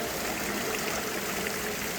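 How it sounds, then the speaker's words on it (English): A water fountain in the grand lobby of the National Gallery of Art in Washington, DC gives a steady, loud splashing rush that fills the space with no break. "The water fountain,"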